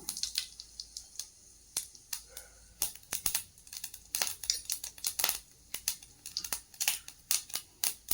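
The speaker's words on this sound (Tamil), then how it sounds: "கடுகை போட்டு" Mustard seeds pop and splutter in hot oil, a quiet irregular crackle of sharp little snaps.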